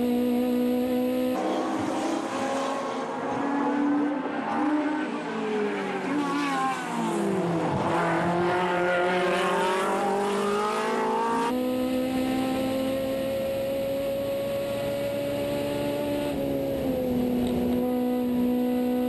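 Modified car lapping Tsukuba Circuit at racing speed: a loud, sustained engine howl that climbs and falls through gear changes, dips sharply mid-lap under braking, then rises again into a long high-revving pull.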